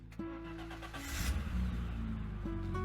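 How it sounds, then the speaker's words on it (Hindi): A car starting up and pulling away as a sound effect in a narrated story, engine catching then rising into a steady revving drive, close and prominent with no talk over it. "दीपक और अंकिता गाड़ी लेकर मंदिर की तरफ रवाना हो गए"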